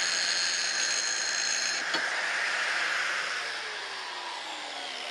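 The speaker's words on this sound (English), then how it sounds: "So the next thing I'm going to do is grind this back so that they're straight" A grinder wears back metal parts of a homemade cast iron 12-inch jointer to straighten them, producing a loud, continuous high whine that steadies and then slowly winds down toward the end.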